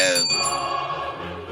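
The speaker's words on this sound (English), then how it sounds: "as long as I get to ring my bell again" A bell is rung nearby, its bright ringing tones sounding loud at the start and then fading as they decay over a second or so.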